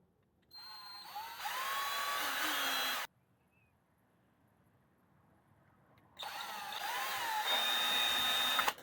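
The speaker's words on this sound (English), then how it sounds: "So drill a hole here and do a zip tie around there." A power drill boring a hole in a part of an Arrma Fireteam 6S RC car, two whining bursts a few seconds apart with a quiet pause between them, close and fairly loud, with no voices.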